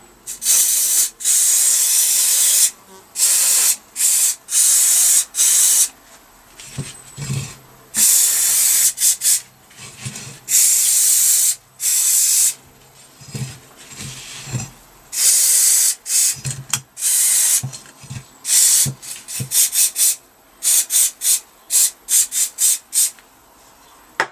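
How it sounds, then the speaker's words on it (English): Repeated bursts of pressurized aerosol cleaner spray hiss loudly in short and long blasts onto the carburettor body of a 1983 Yamaha RS125DX motorcycle, with faint metallic clicks between them. "the main body of this, I think I'll just give it a liberal spray."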